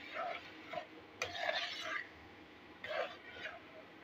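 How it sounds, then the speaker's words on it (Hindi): A spoon scrapes and stirs chaat masala through dahi bhalla in a bowl, in three short raspy bursts separated by pauses, close and moderately quiet. "अभी मैं इसको अच्छे से मिक्स कर लूँगी।"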